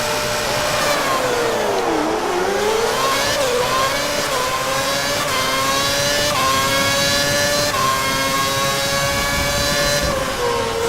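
F1 cars racing at Monza in the F1 2011 racing game, with a loud, continuous high-pitched engine whine that climbs and drops through gear changes as the pack accelerates, several engines layered together with no talk.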